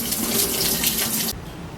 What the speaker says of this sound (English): I put just enough water in there to barely cover the rose petals